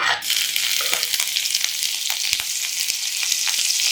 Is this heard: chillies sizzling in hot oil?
yes